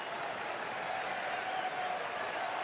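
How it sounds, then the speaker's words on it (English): A steady, moderately distant wash of cheering and clapping rises from a baseball crowd in Arizona at a Cardinals–Diamondbacks game, a sarcastic ovation after a routine grounder, sustained evenly throughout. "A sarcastic cheer from the crowd here in Arizona."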